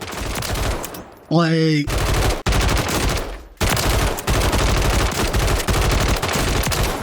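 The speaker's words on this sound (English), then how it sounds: "let's check out what this RAM-7 can do with that build that I just showed you guys" RAM-7 assault rifle in a video game firing long rapid bursts with barely any recoil, loud and continuous, broken by a couple of short pauses, with a voice speaking briefly at the start.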